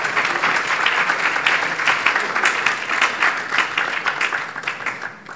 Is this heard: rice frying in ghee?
no